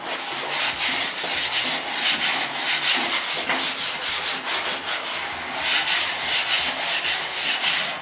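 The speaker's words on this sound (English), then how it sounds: "I'm using the file to help me to find the problems" A hand file is stroked repeatedly across a bare metal panel on an XC Falcon panel van, producing steady rhythmic rasping passes close up, with no voices.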